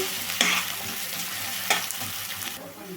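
Thinly sliced onion pieces frying in a pan, a steady close sizzle broken by two sharp spatula stirs, with the frying fading near the end.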